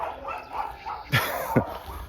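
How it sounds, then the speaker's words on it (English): Puppies at a dog breeder's bark in the distance, with two sharper yips standing out over a soft background murmur. "So you hear all the puppies barking."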